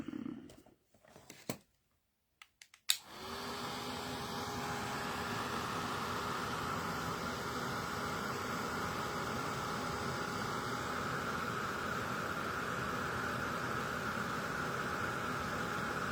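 A craft heat tool clicks on after a few faint knocks and then blows a steady, moderately loud airy whir while heating embossing powder over texture paste, running continuously for more than twelve seconds with no talking.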